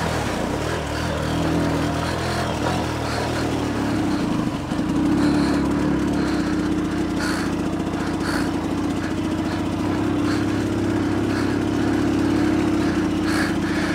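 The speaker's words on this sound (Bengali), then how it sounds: "বাইকের স্টার্ট ছেড়ে দিতে যাচ্ছে" A motorbike engine on an outdoor adventure ride near a waterfall starts up and settles into a loud, steady droning idle that runs continuously from close by, with a brief rev around the middle.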